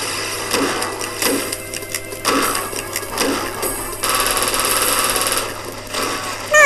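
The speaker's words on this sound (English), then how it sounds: "Phone's ringing." A telephone rings in the Doom mod Maximum Doom (ATICA level), repeated bursts of electronic ringing over steady game ambience and a constant low hum, with short metallic clicks between rings.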